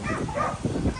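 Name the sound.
dog barking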